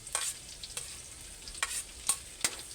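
Garlic sizzles in a pan while a utensil scrapes and stirs it in a few sharp, separate strokes, close and fairly loud, with a continuous frying hiss underneath.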